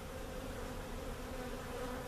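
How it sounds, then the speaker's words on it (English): A small swarm of honeybees fanning at the front of a hive box hums in a steady, dense buzz that holds evenly throughout, close and continuous with no talk. "there are bees on the front of this thing fanning."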